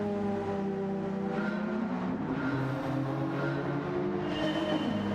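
Interior engine note of a GTO in Gran Turismo 7, a steady droning hum with layered harmonics that rise slightly as revs climb, continuous and fairly loud with no talking.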